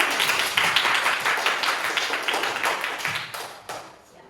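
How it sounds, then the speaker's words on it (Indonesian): Classroom clapping during an Islamic religious education lesson for fourth graders, a fairly small group producing distinct, uneven claps that stay close and loud before thinning out and stopping near the end. "Tepuk tangan untuk Mas Restu."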